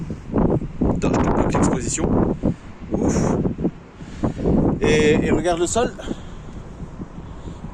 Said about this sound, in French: Parce qu'on a un vent de taré.